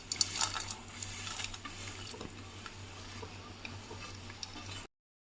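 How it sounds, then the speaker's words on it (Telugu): Dry fruits tumble into sticky date paste in a pan for laddus and get stirred, with a few light clicks and scraping at first, then a quiet steady stirring that stops abruptly. "ఇప్పుడైతే డ్రై ఫ్రూట్స్ వేసేసుకుంటానండి"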